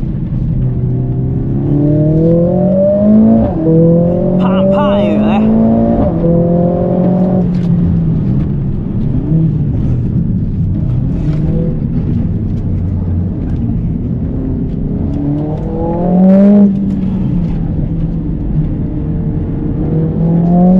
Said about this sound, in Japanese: まずはタイヤを温めるところからスタートです